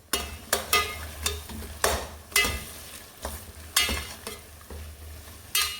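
A spoon scrapes and stirs through a sizzling pot of okra stew with washed smoked fish and locust beans (dadawa), giving repeated close strokes roughly every half second over a steady low simmer.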